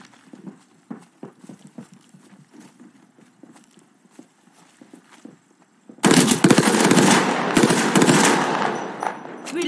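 Gunfire in the Apex Legends video game: a run of light, rapid clicking shots and steps, then a loud, dense burst of continuous firing that fills the last four seconds.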